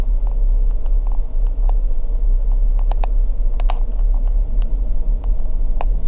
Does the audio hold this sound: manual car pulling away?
yes